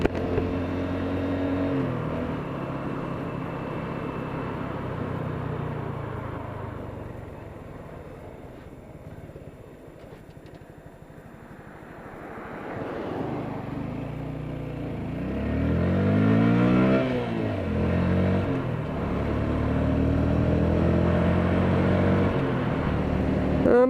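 A 2017 Honda Grom motorcycle engine revs up through several rising pulls, fading low in the middle and then climbing again loudly, heard close from the rider's position.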